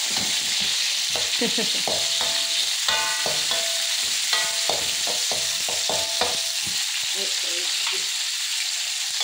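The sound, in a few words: fish cake frying and being stirred in a pan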